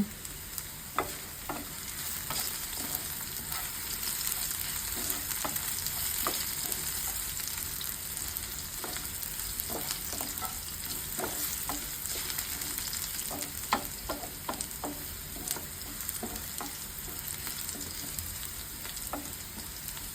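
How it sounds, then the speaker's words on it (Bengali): Onion and whole cumin seeds fry in hot oil, producing a continuous soft sizzle with frequent light crackles and occasional stirring clicks, steady and fairly close throughout. "পেঁয়াজটা ভেজে নেব দেখাচ্ছি দিয়ে দেবো গোটা জিরা"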